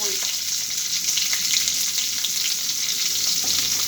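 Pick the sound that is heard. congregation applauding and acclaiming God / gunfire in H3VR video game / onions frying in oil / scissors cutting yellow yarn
onions frying in oil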